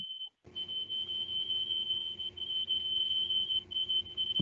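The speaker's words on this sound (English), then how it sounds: "Is that a fire alarm?" A steady high-pitched alarm tone, a fire alarm heard through a virtual meeting connection, sounding continuously and fairly faint after a brief gap, over a low hum with no talking.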